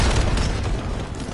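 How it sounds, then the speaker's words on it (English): A cluster grenade detonating in Call of Duty Black Ops 7, a loud, close, deep rumbling explosion with rolling bursts that fade slightly over about a second, with no talking. "Cluster grenade going out."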